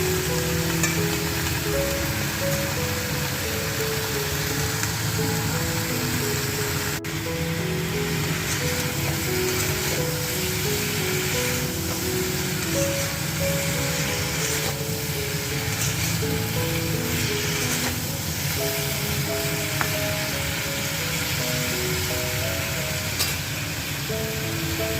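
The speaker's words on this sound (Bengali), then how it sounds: "এবার সবজিটা আমি এই তেলের মধ্যে 3-4 মিনিট ভেজে নেব" Vegetables frying in hot oil in a pan, a steady dense sizzle and crackle that runs unbroken throughout with faint music underneath and no talking.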